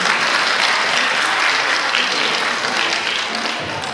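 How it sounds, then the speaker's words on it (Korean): Applause from an audience at the opening ceremony of an international folk painting forum in Gyeongju, a dense, steady wash of many hands clapping that continues loud throughout and eases slightly near the end. "박수로 환영해 주시기 바랍니다."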